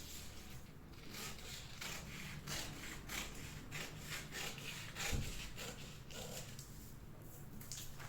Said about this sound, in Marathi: गळा कट केल्यानंतर ही क्रॉस पट्टी कट करायची.